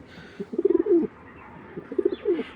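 A big-sized pair of red checker racer pigeons coo in two bursts of rapid, throaty pulses close by, with a short quiet gap between.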